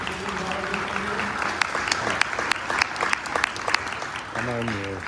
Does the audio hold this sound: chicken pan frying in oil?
no